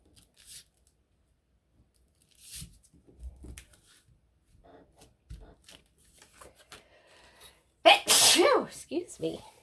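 A single sharp sneeze bursts out near the end during a quiet craft session of paper handling and soft tapping, with a few scattered small noises before it.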